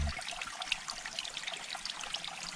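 A forest stream flows with a soft, steady trickling and babbling, close but quiet, with no talk over it.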